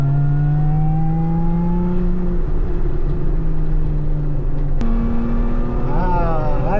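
Lotus Emira sports car accelerating in a low gear, the engine note climbing steadily in pitch, dropping briefly at a shift, then rising again, heard loud from inside the cabin.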